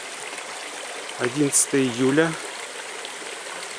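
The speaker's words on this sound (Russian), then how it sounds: "ручей Алмалык, приток Сары-Узень, который является одним из истоков реки Кокоски." The Almalyk stream, a tributary of the Sary-Uzen, flows with a steady, broad hiss of running water throughout, with someone speaking briefly over it in the middle.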